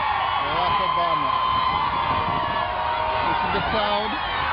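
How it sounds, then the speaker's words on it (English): A huge outdoor crowd at the 2009 presidential inauguration for Barack Obama cheers and roars in a steady wash of noise, with a broadcaster speaking over it. "This is the crowd."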